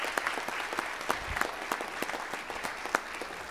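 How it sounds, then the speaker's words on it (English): A church congregation at a Men's Day and Father's Day Sunday service applauds the fathers and men, a steady wash of many hands clapping close by with scattered sharper claps standing out, and no voices over it. "Let's give the fathers and men that are here today a great round of applause."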